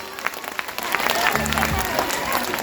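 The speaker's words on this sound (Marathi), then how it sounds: "जरा हात वरती करून टाळ्या वाजवा." Women in an audience at an event clap their hands in applause, a dense, moderately loud patter that keeps going the whole time, with a voice briefly audible over it.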